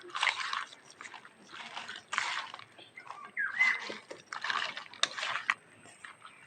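Raw lobster is mixed with mustard oil by hand, making wet, squelching, sticky bursts in an irregular rhythm, close and fairly quiet, with short pauses between handfuls.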